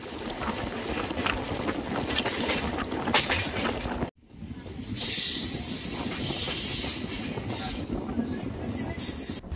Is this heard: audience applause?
no